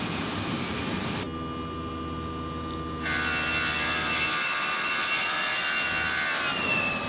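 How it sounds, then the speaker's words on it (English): Airplane engine drone in the Prepar3D flight simulator game, a constant loud steady hum with sustained tonal whine that shifts abruptly in pitch and texture partway through, with no talking. "Engine audio is just weird sometimes."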